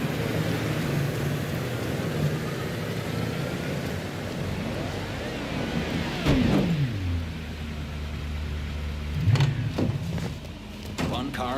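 A car in Mafia III drives in with a steady engine hum and a few rising revs and passes, heard under a soundtrack and with other engine noise nearby.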